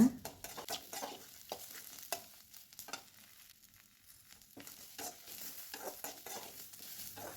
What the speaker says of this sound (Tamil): இப்போ ஸ்டவ்வை மீடியமான ஃப்ளேமில் வச்சுட்டு இது எல்லாத்தையும் நல்லா வதக்கிடுங்க.